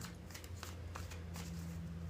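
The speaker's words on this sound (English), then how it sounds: "We're going to get 3 more shuffles" Tarot cards shuffled by hand in a few quick riffles, soft papery flutters and taps sitting close but quiet over a low steady hum.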